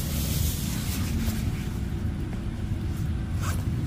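Zipper on a Tarptent Metallight Starlite tent being pulled open, a continuous rasping slide of a few seconds, close by, with no voices.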